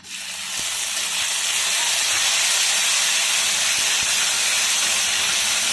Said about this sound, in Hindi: टमाटर डाल रहे हैं।